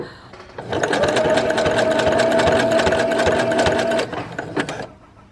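A sewing machine stitches a scout or guide badge onto fabric, running in one steady, close burst for about three seconds before stopping.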